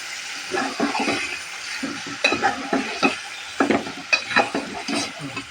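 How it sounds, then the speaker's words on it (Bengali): Meat tossed with bay leaves and whole garam masala stir-fries in a pan for a turnip and meat dish, a steady close sizzle punctuated by repeated rhythmic scrapes and knocks of a spatula as it is stirred. "মাংসটাকে সুন্দর করে কষিয়ে নেব"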